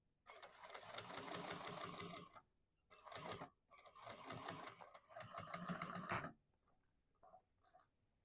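Sewing machine top stitching through the lining of a Mercury bag, running in three bursts of steady rapid needle chatter separated by short pauses, with faint clicks at the end.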